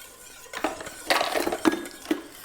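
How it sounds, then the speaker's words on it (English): Seasonings being mixed into a burger meat mixture for a bacon pub burger, with several soft clinks and scrapes of a utensil against a bowl in irregular bursts, close and moderately quiet, with no talking. "now you're just gonna give this a good mix to combine"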